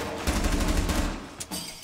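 Rapid gunfire in the video game Rainbow Six Siege, a short close burst of automatic shots lasting about a second, followed by a brief sharp report.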